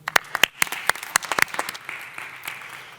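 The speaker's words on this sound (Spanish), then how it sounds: "Un aplauso, por favor" Conference audience at an agri-food digital transformation event claps for a speaker, a short burst of scattered individual hand claps close by that thins out toward the end.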